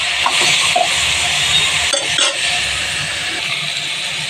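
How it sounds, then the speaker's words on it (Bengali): Vegetables stirred and fried in a pan, a loud continuous sizzle with scraping stir strokes and a few light clinks, no talking. "সবজিটাকে একটু নাড়াচাড়া করে একটু ভাজা ভাজা হয়ে আসছে"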